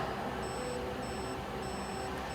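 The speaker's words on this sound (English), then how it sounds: "Meter is beeping. That circuit is good." A multimeter gives its continuity beep while testing a good wire circuit on a vehicle's fuse block harness: thin, high steady tones repeating in short bursts, faint over a constant background hum.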